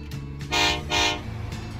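In the video game Transport Fever 2, a train horn gives two short, bright toots in quick succession, fairly close and alone.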